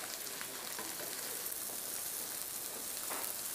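Shrimp sear in a pan over high heat with a dense, even sizzle and fine crackling pops, steady and close throughout.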